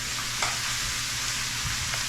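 Chicken browning in a pot for a one-pot braise with cabbage, bacon and potatoes, a dense steady sizzle close up with faint low hum beneath and no voices.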